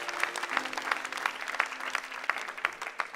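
A church congregation applauding to acclaim the Lord, a burst of clapping from many hands, moderately loud and sustained throughout, with no talk over it.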